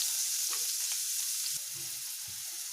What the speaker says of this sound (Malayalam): ചൂടായ എണ്ണയിലേക്ക് സവാള ഇട്ട് കൊടുക്കാം